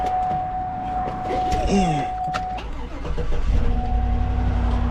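A 2009 Hummer H2 engine with a misfire cranks and catches, then settles into a steady idle, with a high whine and a person talking over it nearby.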